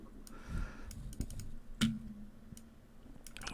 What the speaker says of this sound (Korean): 명령어를 직접 타이핑하는 방법이 있고